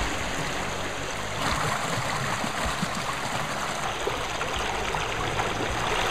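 A stream at a UK wild camping spot rushes and trickles steadily as drinking water is collected, a close, continuous broadband wash with no talking.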